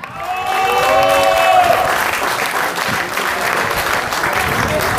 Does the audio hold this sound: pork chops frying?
no